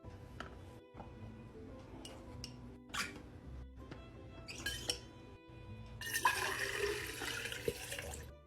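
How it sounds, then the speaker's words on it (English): Water splashes and trickles into a cup over ice, with a few short pours and clinks up front and then a longer, louder steady stream near the end, close by and with no talking. "We've got ice and now more water."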